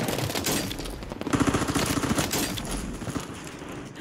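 Gunfire in a video game shooter, sustained rapid bursts of shots crackling fairly close amid a busy, dense mix of game noise.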